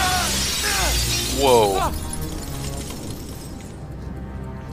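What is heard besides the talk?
glass shattering in video game Uncharted 3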